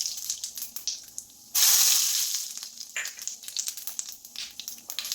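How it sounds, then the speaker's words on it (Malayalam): Mustard seeds and cumin dropped into hot oil for a Kerala uluva cheera potato fry, giving a sudden loud crackling sizzle that bursts in and then settles into lighter spattering and pops. "എണ്ണ ചൂടായി വരുന്നുണ്ട്. അതിലേക്ക് 1 ടീസ്പൂൺ കടുക് ഇട്ട് കൊടുക്കാം."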